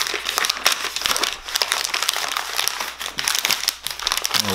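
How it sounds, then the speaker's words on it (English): Deer meat being wrapped in several layers of freezer paper, with loud, continuous crinkling and rustling of stiff paper, close and busy, alone without talk. "We'll wrap them with a lot of layers of paper"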